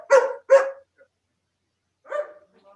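A dog barks twice in quick succession, fairly close and clear, then lets out one more bark after a short pause.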